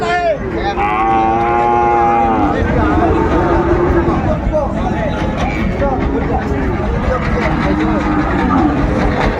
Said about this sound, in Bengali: আর আমরা দেখছিলাম এখানে বিলাল ভাইকে দামাদামি করছেন গরুটি বেশ সুন্দর